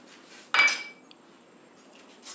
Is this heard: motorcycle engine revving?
no